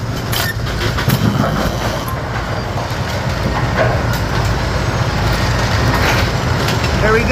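A Brunswick A2 bowling pinsetter loaded with a full deck of pins runs a second-ball cycle, a steady loud mechanical rumble and clatter of gearbox and linkage, close by with no pauses.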